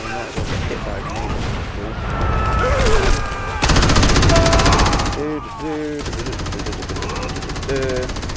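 Rapid automatic gunfire and blasts from the video game Crackdown, dense and continuous across the stretch, with a voice talking over the battle.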